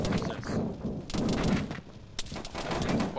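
Enemy gunfire in the ArmA 3 military shooter, a dense run of loud rifle bursts and cracks crowding the whole stretch with a brief lull midway, with voices underneath.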